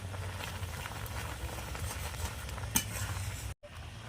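Sugared milk stirred slowly in a pan over low heat while making kheer, with cardamom added: a soft, continuous scraping and gentle sizzle, fairly faint, with one brief clink of the spoon and a short silent break near the end.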